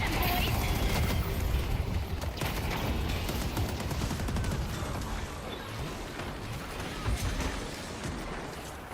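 Turrets fire in a game battle against eldritch horrors, a dense, continuous mechanical rattle of rapid shots that fills the whole stretch at a steady, loud level, with a voice briefly heard over it.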